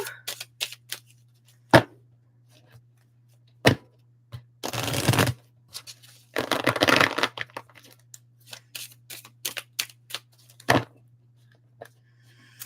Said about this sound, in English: We're doing the shuffle